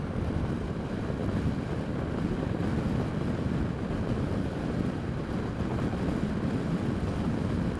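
A Honda NC700X motorcycle cruising in sixth gear on the highway, a constant loud rush of wind buffeting over a low engine drone, with no break in the noise.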